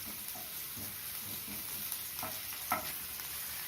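Green chilli, garlic and ginger sautéing in a pan for mushroom Manchurian, a steady soft sizzle with occasional faint scrapes of stirring, close and low in level.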